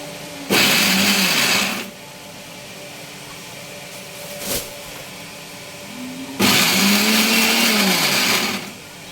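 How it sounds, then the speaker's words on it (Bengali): Blender grinding dried fish, long beans, garlic, onion and green chili into a mash, with two loud bursts of whirring motor separated by a quieter stretch of low hum. "এখানে শুটকি আছে, বরবটি, আপনার রসুন, পেঁয়াজ, কাঁচামরিচ, এটা একসাথে ব্লেন্ড করে নিব এখন।"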